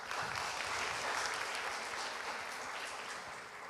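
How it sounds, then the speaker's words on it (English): Audience at an academic conference applauding with a dense, even clapping that holds for a few seconds and begins to taper off, moderately distant. "And one more clap for Francesco, please."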